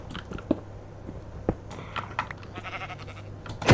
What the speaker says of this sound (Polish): owca, druga owca